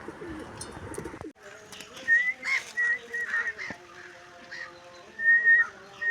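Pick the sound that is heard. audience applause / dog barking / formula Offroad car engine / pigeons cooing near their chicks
pigeons cooing near their chicks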